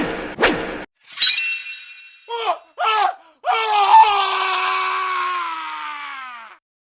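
Several screams cut through the night as men are struck down by a sword attack, a sharp burst at the start followed by rising and falling cries and then one long sustained wail, loud and unaccompanied by speech.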